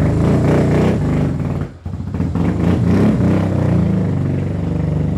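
An overhauled motorcycle engine revving hard and pulling away, loud and close with rough throaty clatter, a brief dip in power midway before it picks up again and drones on steadily.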